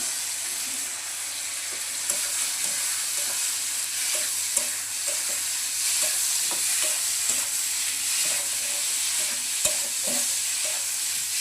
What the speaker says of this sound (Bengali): মশলাটা কষানো হয়ে গেছে মশলা থেকে তেল ছেড়ে গেছে এখন বেজে রাখা কচুগুলো দিয়ে দিচ্ছি